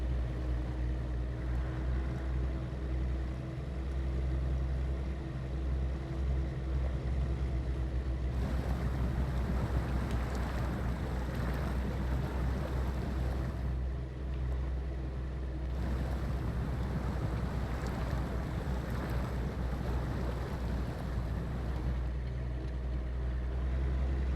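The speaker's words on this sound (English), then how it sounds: "I like the engine sounds. I believe this is a stock sound from the game" A Suzuki SJ410 engine in SnowRunner, using the game's stock engine sound: a continuous drone with steady low humming, swelling louder and rougher in two stretches as if throttling up, without any talking.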